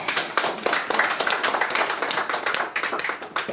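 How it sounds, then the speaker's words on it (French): A church congregation claps for the Lord during a prayer service, brisk, close clapping from many hands that keeps up throughout. "Applaudissez le Seigneur."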